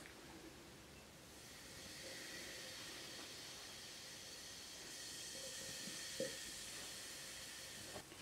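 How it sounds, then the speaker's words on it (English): A candy cane fizzing after vinegar is sprinkled on it, giving a faint, steady soft hiss with a few tiny crackles and clicks, close and quiet, with no talking. "Do you hear the fizz?"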